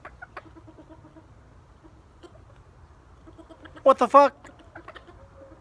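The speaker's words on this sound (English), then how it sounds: "This chicken just jumped on my back." A chicken at a junkyard clucks softly now and then, then lets out a quick loud burst of squawks close by, with a person briefly exclaiming in between.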